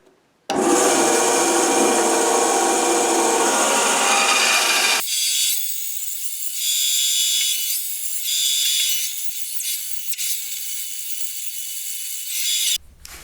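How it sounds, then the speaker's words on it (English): A small bandsaw rips a length of timber for a bass guitar neck, a loud steady rasping cut for about five seconds, then a thinner, uneven grinding as the blade works on until it stops abruptly. "get this back onto the bandsaw again and rip it down its length"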